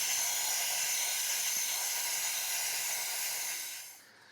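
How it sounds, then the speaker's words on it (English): Chain cleaner sprayed in a steady loud hiss onto a spinning rear motorcycle chain, continuous for about four seconds before tapering off at the end. "So spin your rear wheel and give good dosage of cleaner."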